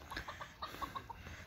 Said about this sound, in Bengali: মোরগটা কেমন করছে মুরগিটাকে দেখে